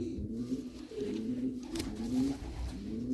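Low, soft cooing from homing pigeons in a loft, a continuous murmuring drone of several birds close by with no voices over it.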